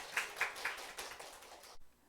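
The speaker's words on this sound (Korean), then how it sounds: "우리 하나님께 영박수 올리도록" A church congregation claps together in a brief, moderately loud burst of applause with a few sharp individual claps, then stops abruptly into quiet.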